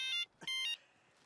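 A phone rings in a Hindi comedy film scene: two short, bright electronic tone bursts sound close and loud, separated by a brief gap, then fade into near silence.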